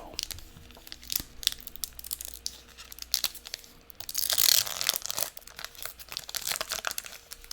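A Magic: The Gathering collector booster sample pack being opened up close, with crisp foil crinkling and tearing, brief rustles building to a louder tearing rip midway, then softer crinkles.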